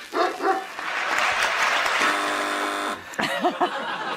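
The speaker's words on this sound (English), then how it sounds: "Our canine, as I call it a dog." A dog barks as a sound cue on a TV quiz show, a few sharp barks near the end following a burst of audience applause.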